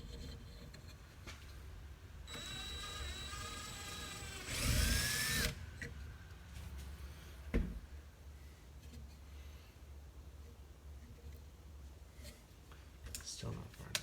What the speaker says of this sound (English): my drill bit didn't go far enough.